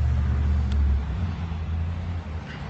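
Steady low road rumble from inside a moving vehicle, continuous and fairly loud, with a brief faint click partway through.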